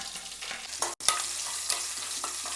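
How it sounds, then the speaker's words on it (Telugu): Mustard seeds, cumin and dried and green chillies frying in hot oil for a pumpkin pulusu tempering, a close continuous crackling sizzle with a few spoon stirs and one abrupt cut partway through. "ఇవి కొద్దిగా వేగినాక ఆవాలు జీలకర్ర వేసుకుందాం"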